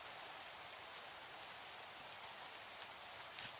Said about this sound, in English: and of course it's raining. It's a feature every time I start an episode. It rains.